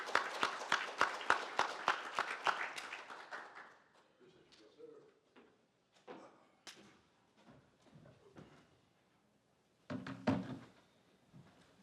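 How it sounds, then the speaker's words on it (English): An audience gives a short burst of brisk, close clapping as a speaker heads onto the stage. It fades after a few seconds into scattered thumps, with a brief knock of clapping later. "Give Nicholas a round of applause as he heads onto the stage"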